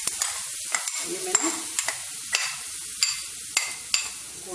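Jaggery dropped into a teaspoon of hot refined oil in a pan gives a soft, steady sizzle, broken by a few sharp clicks and scrapes as it is stirred.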